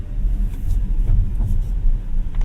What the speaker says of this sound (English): And to get going, just hit the accelerator pedal.